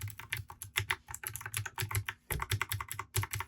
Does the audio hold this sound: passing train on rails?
no